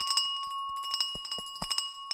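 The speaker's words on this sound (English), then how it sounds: "Minnie, get that bell in your hand, sir" A brass hand bell rung rapidly for the opening of the London Stock Exchange, bright repeated clangs with sustained metallic ringing overtones, close and alone for about two seconds.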